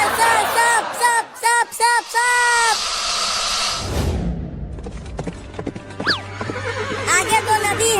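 A horse whinnies in several loud, rising and falling bursts, followed by thuds and a further neigh, with voices faintly present.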